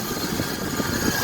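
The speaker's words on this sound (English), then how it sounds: "That noise, that's the compressor." A car's air conditioning compressor drones close by, a steady mechanical hum with a low, even throb.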